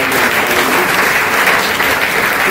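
Loud, continuous applause for a speaker at a school guidance talk on food and health, steady massed clapping from a nearby audience with no speech.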